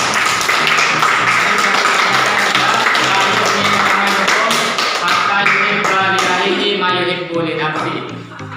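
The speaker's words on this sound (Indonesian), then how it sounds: "Iya, benar sekali. Kita beri tepuk tangan." Pupils in a madrasah classroom clap in a brisk, patterned rhythm close by, with children's voices underneath, before the clapping thins out and fades near the end.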